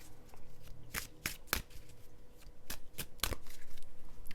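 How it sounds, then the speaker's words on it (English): Tarot cards are shuffled and cut in quick, crisp riffling bursts, close up, with short pauses between them and no speech. "Spirit is saying do a shuffle and a cut and see what we got"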